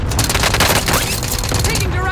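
Gunfire in a combat video game comes as a dense rattling volley of rapid shots, loud and close, with a voice speaking over the shooting.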